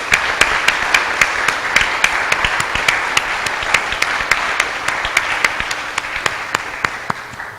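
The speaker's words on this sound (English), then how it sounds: "I want to have a round of applause for our wonderful panelists" An audience claps for a panel in sustained applause, with a few sharp claps standing out over the steady patter throughout.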